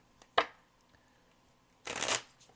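Tarot cards shuffled in two short riffling bursts, the second longer and brighter, separated by a quiet pause with faint handling noises, close and crisp.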